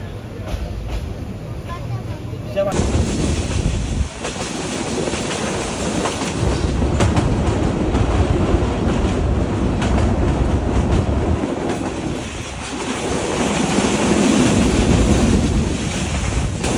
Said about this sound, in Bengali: পরীক্ষামূলক হল্টে 4টা বিরতি শেষ করে আমাদের ট্রেন ছেড়ে যাচ্ছে।